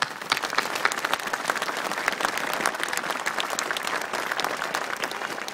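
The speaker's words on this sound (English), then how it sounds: "Please join me in a round of applause for them." Audience at a West Haven mayoral inauguration giving a steady round of applause, dense even clapping from a sizeable crowd across the room, with little talk.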